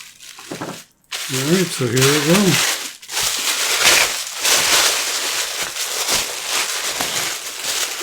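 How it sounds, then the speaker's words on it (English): Paper packaging around a coin shipment is torn open and tape peeled away, giving a steady, close, loud crinkling and ripping that runs for several seconds after brief talk at the start. "It's only paper, but let's get the tape off of here."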